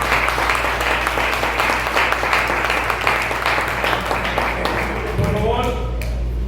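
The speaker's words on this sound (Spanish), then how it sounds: "Yo creo que ustedes den un fuerte aplauso al Señor ahí, por favor." Congregation at a church service applauding, dense clapping throughout with some voices mixed in and a steady low hum underneath; the clapping thins out toward the end.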